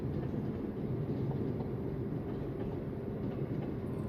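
A long train rolls past in Cambodia, its steady, loud rumble continuous throughout with no voices.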